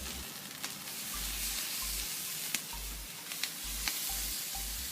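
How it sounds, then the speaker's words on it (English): Buffalo chicken sears over high heat on a grill, giving a steady, close hissing sizzle with faint pops and crackles and no voices. "We're going to sear everything real hot."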